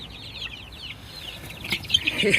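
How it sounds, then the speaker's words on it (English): Hens in a backyard chicken run cluck and squawk at close range, a busy, uneven mix of calls that grows livelier toward the end, with no talk. "we moved all 16 of the hens into the chicken run"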